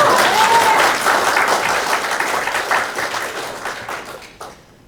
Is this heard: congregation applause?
yes